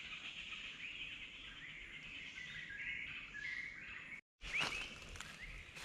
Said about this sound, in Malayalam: നല്ല സൗണ്ട് ഉണ്ട് കിളികളുടെ